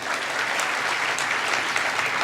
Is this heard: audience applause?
yes